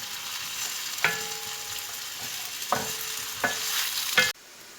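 Onions frying until soft in a pan for masala bhindi, a steady close sizzle with a few sharp utensil scrapes and clinks against the pan, ending abruptly.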